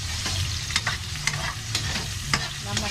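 Tomatoes and spices sautéing in a pan hiss loudly and continuously up close, broken by repeated sharp scrapes of a spatula stirring the mixture.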